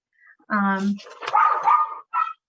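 A dog barks and yips nearby during a committee meeting held over a call, giving a few loud, whiny bursts with brief pauses between them.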